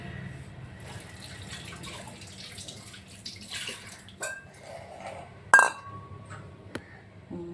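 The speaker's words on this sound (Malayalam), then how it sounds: "നന്നായിട്ടൊന്ന് കഴുകിയെടുക്കാം കേട്ടോ" Peeled onion and other vegetables rinsed in a bowl of water. Faint sloshing and trickling runs beneath a few sharp clinks of a dish, close and quiet, with no talk.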